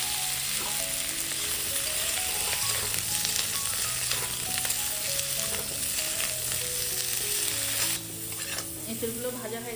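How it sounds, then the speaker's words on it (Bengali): Boiled jackfruit pieces fry in hot oil with a dense, continuous sizzle and faint stirring, close up and fairly loud, with no voices. "এই এঁচোড়টা একটু তেলে ভেজে নেবো"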